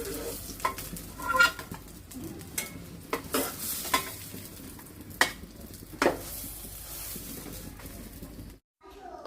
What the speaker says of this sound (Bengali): কড়াইতে আর একটু তেল দিয়ে বাকিগুলো ভেজে নিচ্ছি।